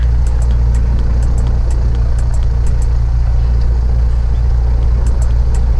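A light airplane's engine running on the ground during a flight lesson, a loud, steady low drone close by, with faint periodic ticks above the constant rumble.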